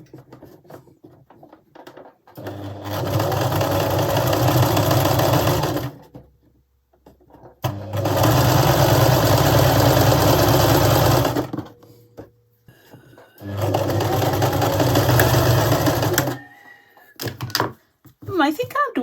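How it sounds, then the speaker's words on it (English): A sewing machine stitches fabric scraps in three long steady runs of motor whirring, separated by short pauses with faint handling sounds, close and loud. "And then we're going to sew along there."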